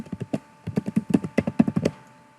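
A search term is typed on a computer keyboard: a steady run of about a dozen close, crisp key taps, pausing briefly before a final quick flurry, with no talking.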